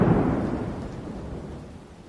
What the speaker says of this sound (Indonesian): Waduh, malah hujan.